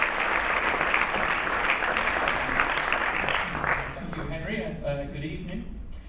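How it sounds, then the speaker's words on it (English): Audience applause for a talk on human and animal culture, dense steady clapping from a full hall that carries on for several seconds and then thins out slightly near the end. "Round of applause, please."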